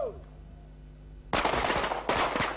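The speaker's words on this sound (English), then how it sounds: "Our side weapon is a 9mm pistol." Two sudden loud gunfire bursts, 9mm pistol shots from a special task force unit, crack in sharply after a quiet stretch, each with a brief ringing tail.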